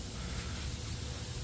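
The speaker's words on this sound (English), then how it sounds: "I'm going to spray one light coat" A spray gun sprays a coat of paint on a Honda Del Sol, a steady, continuous hiss, even and unbroken throughout, close by.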